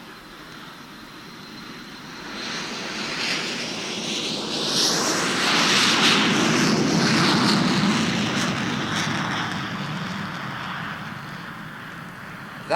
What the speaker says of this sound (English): That one was a Caravelle, pride of France and powered by Rolls-Royce engines